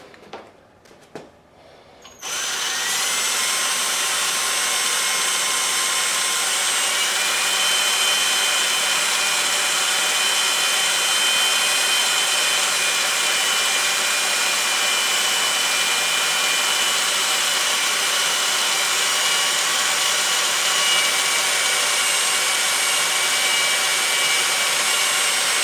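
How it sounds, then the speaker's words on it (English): A power drill bores a hole through a custom fender on a GS550 cafe racer motorcycle build. After a few brief knocks, it starts up and runs as a loud, continuous high-pitched whine for over twenty seconds. "So I'm just going to auto punch that and then drill the hole."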